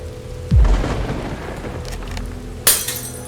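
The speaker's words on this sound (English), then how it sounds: "am I getting rained on?" Rain falls steadily in a dark bell tower setting in a horror video game, a soft hiss throughout, broken by a deep thud near the start and a sharp crash or splash of noise toward the end.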